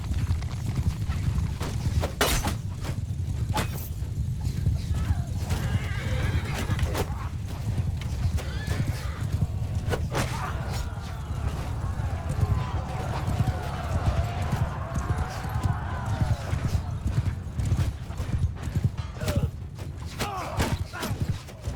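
Cavalry in the Mount & Blade 2: Bannerlord video game: horse hooves clip-clop through a battle while horses neigh and whinny repeatedly, with someone talking over the steady galloping.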